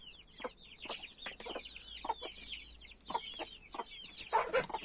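Several chickens cluck and squawk in short, overlapping bursts close by in a village garden, with a few louder, sharper calls near the end.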